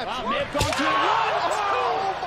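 At a WWE pro wrestling match on Raw, a wrestler whips her hair against an opponent's stomach, giving one sharp slapping crack over a steady roar of arena crowd noise and faint voices.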